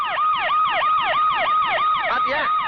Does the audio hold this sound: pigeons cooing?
no